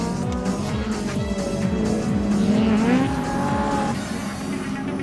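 A pack of race cars up to 1600cc sweeps past on a circuit, with engines buzzing and whining in rapid overlapping passes, pitches rising and falling as they go by, loud and close, with a brief tire squeal.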